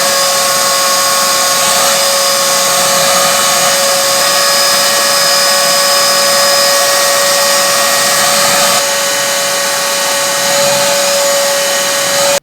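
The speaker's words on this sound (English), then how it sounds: "I'm going to take the shop vac and just go around and kind of suck up all the dust and leaves and dirt." Shop vac sucking up dust and leaves from a Husqvarna lawnmower, a loud, steady whining motor roar close by, with a slight shift in pitch partway through.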